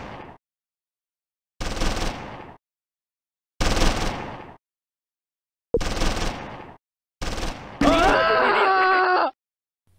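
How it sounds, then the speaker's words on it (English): Machine gun and cannon fire in the game Close Combat 3: The Russian Front arrive in four separate bursts of about a second each with pauses between, then a tonal, voice-like sound follows. "Cannons and machine gun fire end the threat."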